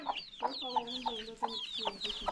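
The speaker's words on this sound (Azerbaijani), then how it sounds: "Bax, bu da cücələr." Chicks and hens at a farmyard in the remote Azerbaijani mountain village of Zərnava, Ismayilli district, cluck in a steady run of short, close calls, with high chick peeps layered over them.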